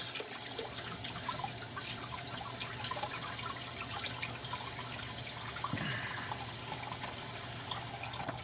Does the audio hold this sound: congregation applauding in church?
no